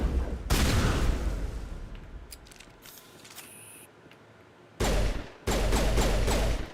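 Shotgun blasts ring out in the Mass Effect video game: one loud sustained burst of fire, then a quieter stretch with clicks and whines, followed by two more loud, close blasts near the end.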